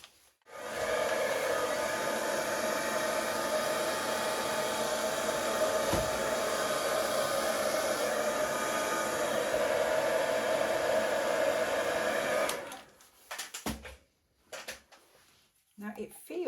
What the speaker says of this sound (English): I'm just going to use my hairdryer.